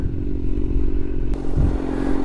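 A motorcycle idles while stopped on a mountain ride, its engine holding a steady, close, throbbing hum with a brief click partway through.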